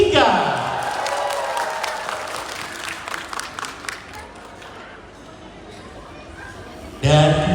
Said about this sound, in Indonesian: Kita berikan tepuk tangan yang meriah, SD Negeri Cincin 3.